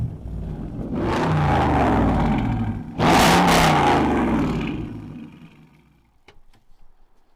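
Dodge Charger 5.7 V8 Hemi Daytona on a test drive: two loud engine roars as it accelerates hard, a short lift between them, then the sound fades into quiet rolling with a few faint knocks.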